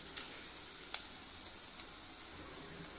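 Curry leaves and two green chillies sizzle faintly in a frying pan for an egg fry, a soft steady hiss with a few small ticks and pops.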